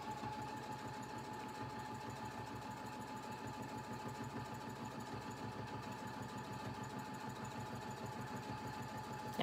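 A sewing machine runs steadily while stitching a pillowcase, a fast, even mechanical whirr with a rhythmic needle pulse that holds close and constant throughout, with no talk.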